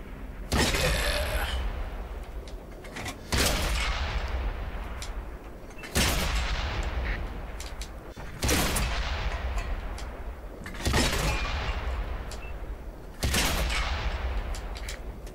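Tank cannons fire in the World of Tanks game, with six loud, booming shots spaced a few seconds apart, each followed by a long rumbling decay.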